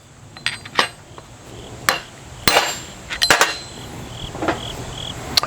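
Hammer blows knocking a part out of a Dana 60 axle: about half a dozen sharp, ringing metallic strikes at uneven intervals, close and fairly loud, with faint clinks between.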